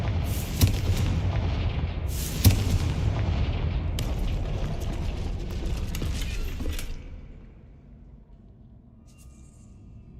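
Confringo blasting spell in the magic action game Hogwarts Legacy, two sharp booming bursts followed by a rumbling, creaking collapse that fades out into near silence.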